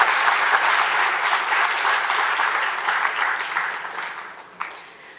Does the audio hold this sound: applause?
yes